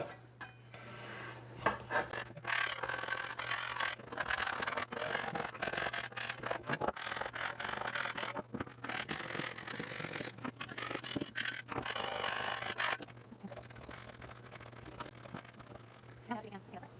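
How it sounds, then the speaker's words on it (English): Chalk paint is rasped off candle-waxed spots on small painted pieces, a quiet steady scraping and rubbing that runs for many seconds with brief pauses, under a faint low hum. "we're just going to scrape away where that candle wax was"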